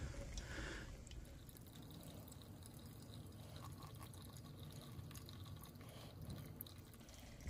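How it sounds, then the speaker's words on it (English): Folgers coffee trickles and drips steadily through a manual drip, a soft continuous dribble with faint splashes, close by and without voices. "instead of an automatic drip, this is a manual drip"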